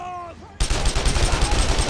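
Rapid, loud gunfire in the PC shooter Sniper Elite 3, a dense burst of shots erupting abruptly after a moment of quieter tonal game sound and continuing steadily to the end.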